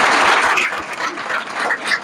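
Students clapping for a teacher at a farewell ceremony for 10th and 12th class students, a steady crowd of hands rising near its start and holding for two seconds, with no voices over it.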